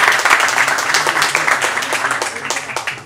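A studio audience on a Turkish talk show claps for guest rappers, a dense, steady round of close applause filling the whole stretch without letting up.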